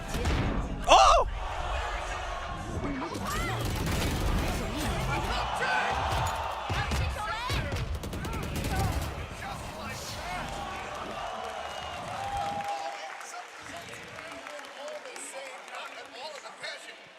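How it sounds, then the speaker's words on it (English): A large esports arena crowd roars throughout a Valorant grand final between PRX and DRX, a sustained loud wash of cheering that swells after a sharp shout near the start and eases toward the end, with commentators talking over it. "crowd has roared for them"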